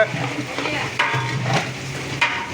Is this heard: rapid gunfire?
no